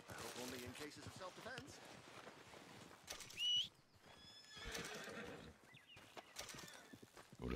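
A horse neighs loudly amid clopping hooves and other rustling sounds in Red Dead Redemption 2, with a high whinny standing out midway and someone talking in German over it.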